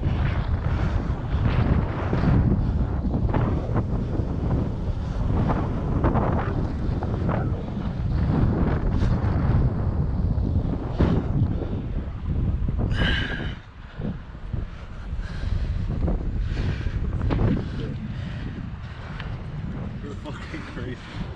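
Strong wind gusts roar and buffet the microphone high up on a steep climb at an abandoned urban exploration site, a steady heavy rush that eases slightly near the end, with people talking over it.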